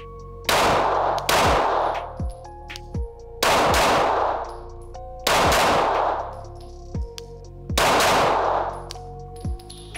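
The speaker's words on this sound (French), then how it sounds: "je vais en tirer une dernière" Pistol shots ring out at an indoor shooting range in quick doubles and singles, five loud sharp bursts with reverberant tails and short pauses between them.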